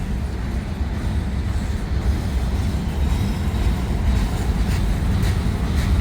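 A freight train rolls past near a canal ridge, a loud, steady rumble of wheels and cars filling the air without a break, with faint squeals and clatter on top.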